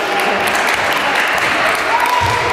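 At a youth sports tournament in Przedmość, spectators applaud the team from Krakowica, with a short, dense burst of clapping at steady loudness and voices mixed in.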